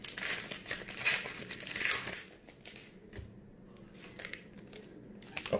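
Close, crisp crinkling of a trading card pack's foil wrapper being torn open, busy at first and then settling into sparse rustles and small crackles.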